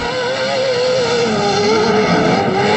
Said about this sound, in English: When listen to that Toyota, man, it is just screaming now.